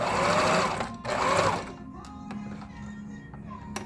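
Domestic sewing machine stitching in reverse, a steady whirring run near and loud for about a second and a half, pausing briefly, then a second burst before it stops, followed by faint taps and quiet room noise.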